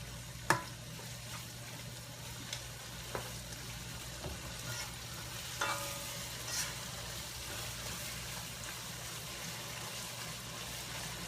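Rice goes into a pot of cooking congrí and is stirred, giving soft scraping and faint sizzling over a low, steady simmer, with occasional light clinks of a spoon.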